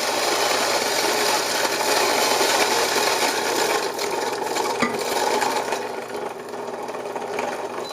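A Fellow Ode electric coffee grinder grinds beans in a steady, dense whirring rasp, close and continuous, easing slightly toward the end as it nears its automatic stop, with no talking.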